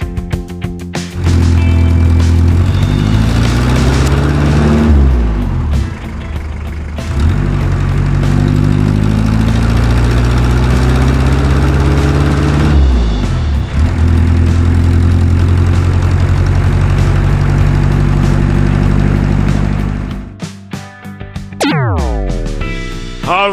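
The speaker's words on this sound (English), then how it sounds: "A fire truck." A fire truck engine idles and revs with a loud, close, low rumble that swells in several gear-like rises, then cuts out near the end before a falling whine.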